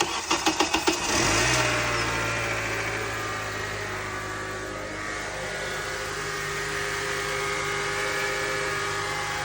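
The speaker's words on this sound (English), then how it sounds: "So go ahead and start it." A 2008 Acura TSX with a 2.4L engine cranks with several quick starter pulses, catches, and settles into a steady, even idle that continues close by.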